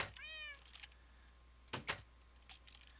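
A Minecraft cat gives a short, rising meow, followed by a few soft clicks and taps. The whole passage is faint and sparse over a quiet background.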